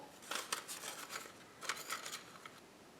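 Scissors snip around a circle cut from a masterboard, a quick series of soft, crisp paper cuts in two short clusters, close and quiet.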